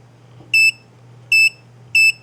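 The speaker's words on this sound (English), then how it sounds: "and now it's beeping again." Owon AG1022F signal generator giving three short, sharp electronic beeps at roughly even intervals over a faint background hum.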